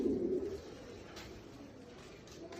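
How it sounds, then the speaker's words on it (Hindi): Sialkoti pigeons of a fancy breed give soft, low cooing, faint and somewhat distant, over steady outdoor background noise. "उस्ताद हसन शाह वाले कबूतर"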